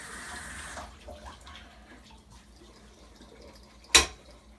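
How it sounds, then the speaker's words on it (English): Water running from a kitchen tap while a spatula is rinsed, a soft hissing flow at first that drops to faint trickles and handling noises, followed by a sharp clatter near the end. "so I'm gonna wash the spatula off real quick"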